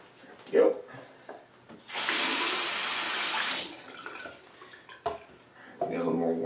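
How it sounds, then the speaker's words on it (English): Tap water runs in a steady rush for about two seconds to wet a shaving brush and cup, with brief clatters and handling noises before and after and a quiet voice in the background. "Get a little more water in our brush here."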